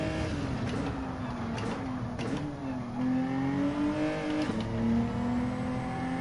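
A Subaru WRX in a racing video game accelerates steadily, its engine note holding a continuous rising and falling harmonic drone with gear-shift dips, loud and close throughout.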